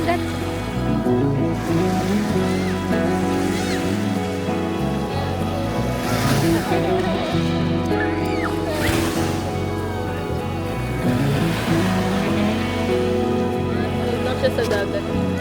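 Ocean surf at Pico de Loro beach rolls and washes continuously, with broad swells of wave noise and wind, while people talk nearby throughout.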